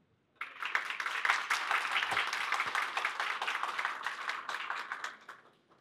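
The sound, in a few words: audience applause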